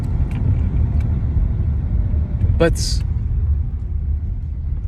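A rented manual-transmission car rumbles steadily from inside the cabin while driving, a constant low engine drone with a brief sharp click partway through; a voice speaks a single word.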